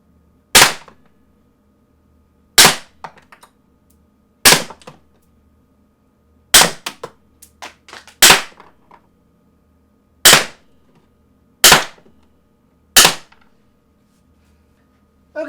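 Eight sharp, loud pops from a RAP4 RAM combat pistol ring out one by one at irregular intervals of about one to two seconds, each with a short metallic tail, and quiet between them.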